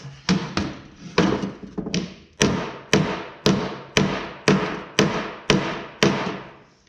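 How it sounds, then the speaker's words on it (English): A small ball peen hammer taps on a tractor seat part, about a dozen sharp, close metallic knocks in an uneven rhythm, each one fading quickly before the next. "Using my small ball peen."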